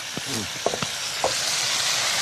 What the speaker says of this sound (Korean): 아, 이제 같이 볶는 거예요?